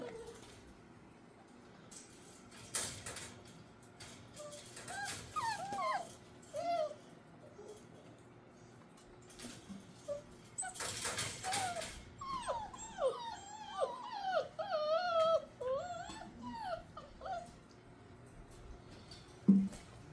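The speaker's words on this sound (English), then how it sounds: "And there are the puppies." Six-week-old puppies in their pen let out a run of high whimpers, yips and squeals, scattered and close, between bursts of scuffling and rustling.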